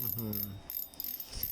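A quick burst of mechanical ratcheting clicks from the clicker of a Weebass Wee Pro 4000 fishing reel, close and crisp, followed by a fainter scraping sound.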